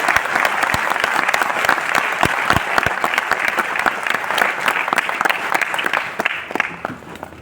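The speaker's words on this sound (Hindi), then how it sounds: "एक बार जोरदार तालियां।" Loud, dense clapping from a seminar audience during a success celebration in Delhi, with a few sharp claps standing out close by, sustained throughout and tapering slightly at the end.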